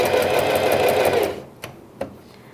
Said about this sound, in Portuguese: Virou e vamos costurar por cima.